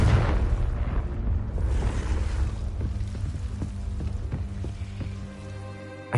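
The Confringo fire spell bursts in Hogwarts Legacy with a loud booming blast, then crackling debris and a fading rumble rolling out over several seconds.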